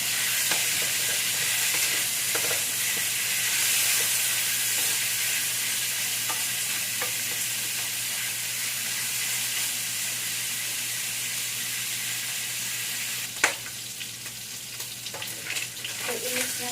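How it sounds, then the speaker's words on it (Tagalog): Pork belly fries in a pan while being stirred, giving a steady loud sizzle and hiss with occasional scraping clinks of a utensil, close up and with no talking. "Ilalagay natin yung pork belly. So, i-mix na natin ito."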